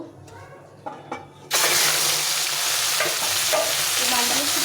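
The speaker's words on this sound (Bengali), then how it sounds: "এখানে তেলটা গরম হয়ে গেছে মাছগুলো ভেজে নেব" Turmeric- and salt-rubbed fish drop into hot oil, bursting into a loud, continuous sizzle after a few faint kitchen clatters, the frying hiss staying strong and steady to the end.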